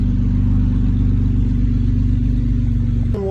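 A BMW X3 with an N52 inline-six engine and a muffler delete idles steadily up close, a loud constant low rumble with a fast even pulse that cuts off abruptly near the end.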